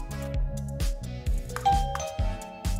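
A LINPTECH LP100SW battery-free wireless doorbell chime rings with a bright, clear sequence of repeated tones, loud and close, and no one speaks.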